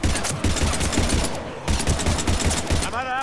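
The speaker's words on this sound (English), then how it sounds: "but we're taking heavy fire" Dense automatic gunfire from the video game Mass Effect 3 fills the clip with loud, rapid overlapping bursts. It breaks briefly for a short pause, then resumes, and a voice briefly speaks near the end.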